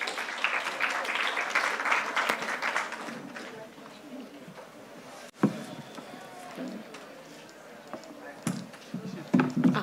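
Audience applause for a startup founder taking the stage at The Gap in Between 2024 Discovery Stage: a dense, steady clapping wash fills the first half, then thins as a voice begins speaking over scattered claps.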